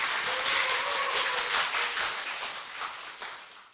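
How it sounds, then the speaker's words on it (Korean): A church congregation bursts into applause, a dense wash of many hands clapping close by that swells at first and then gradually fades out. "박수 한번 드립니다."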